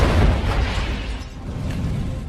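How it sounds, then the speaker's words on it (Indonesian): A car blows up after being sprayed with gunfire in an action racing film, a single deep, heavy boom that breaks into a rolling, crackling rumble and decays quickly. "langsung memberondong mobil Kaner hingga meledak"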